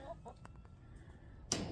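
Backyard chickens cluck softly in a few brief calls, faint and distant, with a sharper noise cutting in near the end.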